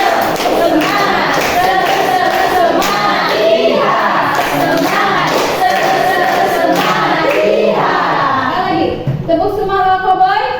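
An Indonesian primary classroom does the cowboy-style spirit clap, with rhythmic group clapping and thumps mixed into a teacher's and children's voices that run throughout.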